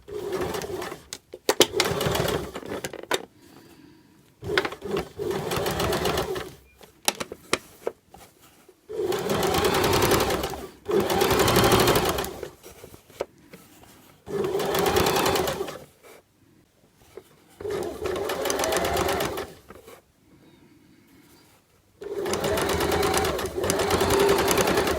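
A sewing machine understitches a facing on fabric, running in several bursts of steady whirring separated by short pauses while the cloth is pulled flat.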